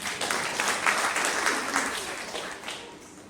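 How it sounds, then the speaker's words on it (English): An audience at a Kenyan ideas festival panel claps loudly and steadily for a few seconds, a dense wash of many hands that gradually tapers off. "you clap for yourself"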